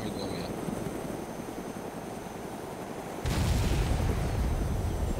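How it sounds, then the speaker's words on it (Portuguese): A DayZ explosion in the video game: a sudden loud, low boom cuts in partway through and rumbles on over the steady background noise of the game. "Tá, explodiu, né?"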